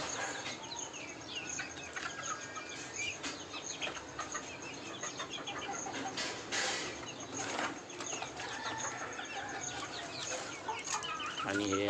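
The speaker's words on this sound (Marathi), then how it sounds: "7 ते 8 कॉकरेल चिक्स आहेत." Young cockerel chicks in a poultry room cluck and chirp in short, irregular calls over a soft background hum, some calls nearer and louder than others, with no clear speech.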